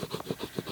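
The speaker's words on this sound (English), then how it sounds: "So just give them a really good burnish" A folded paper box edge being burnished, quick back-and-forth rubbing strokes, about six in rapid rhythm, close and moderately soft.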